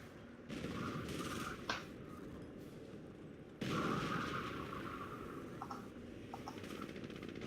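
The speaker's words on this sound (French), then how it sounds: "Et ça tire, les obusiers sont vraiment génial." Howitzers and other guns firing in a Company of Heroes 4v4 battle as US forces, a dense rumbling barrage of overlapping blasts with sharp cracks near the start and a louder surge midway, continuous and heavy.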